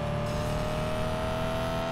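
Car engine in Car For Sale Simulator 2023 revving steadily under nitro boost, a continuous loud drone with a sustained high whine running throughout, no voices.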